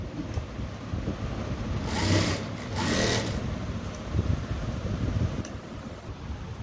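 A sewing machine stitches a blouse in two short, loud bursts of fast mechanical whirring over a constant background hum, with no one talking.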